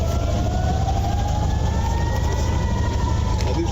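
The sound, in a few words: air raid sirens warning of rocket launches in Tel Aviv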